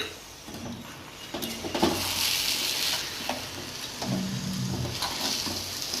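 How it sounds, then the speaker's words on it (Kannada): Sajjige semolina stirred with two cups of sugar in a pan, a steady scraping and soft sizzling close up, with occasional clinks of the spoon against the metal and no talk. "ಈಗ ಸಕ್ಕರೆ ಹಾಕೊಳ್ಳಿ ಎರಡು ಕಪ್ ಸಕ್ಕರೆ ಈಗ ತಿರುಗಿಸ್ಕೊಳ್ಳಿ"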